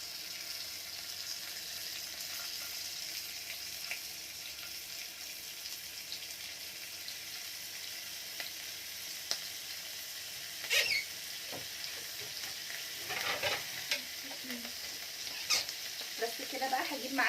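Food sizzles steadily in hot oil in a home kitchen, a soft continuous crackle with occasional louder pops, utensil clinks and stirring toward the end.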